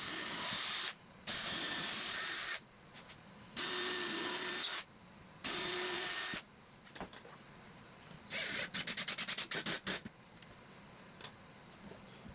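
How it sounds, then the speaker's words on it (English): Drill with a Forstner bit boring a shallow hole in wood, four loud sustained bursts of whirring with short pauses between, then a lighter stretch of rapid ticking and clatter. "I used the Forstner bit to make a shallow hole"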